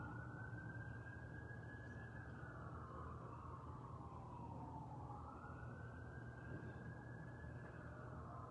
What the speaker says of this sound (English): Some sirens coming close.